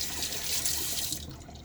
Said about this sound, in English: Again, rinse off the container.